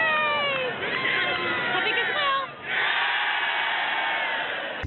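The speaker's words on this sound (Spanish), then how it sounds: "No tengo que pedirlo, tiene que aplaudir usted." Studio audience applause on a television show swells into a dense, steady wash after a host's voice and holds until the end.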